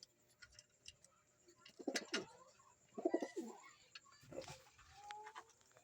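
White pigeons coo in soft, low rounded bursts, three or four phrases spaced over several seconds at moderate distance, with faint background noise and no talking.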